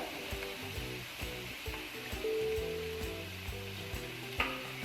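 Chicken fajita filling seasoned with soy sauce is mixed in a hot pan, a steady close sizzle with rhythmic scraping strokes of the spoon repeating every half second or so.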